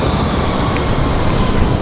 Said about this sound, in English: you guys joining us just in time for the American 777 departure